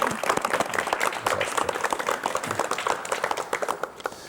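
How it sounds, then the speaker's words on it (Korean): Studio audience on a 1986 KBS talk show clapping to welcome novelist Kim Won-il, a steady burst of applause from a modest crowd, individual claps audible, thinning toward the end. "박수로 맞이해 주십시오"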